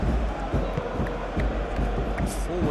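A stadium crowd in the eFootball PES 2021 football video game cheers and roars throughout, a broad sustained swell of noise with scattered shouts.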